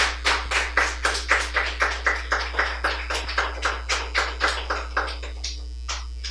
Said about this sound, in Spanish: Bríndele fuertes palmas al Señor.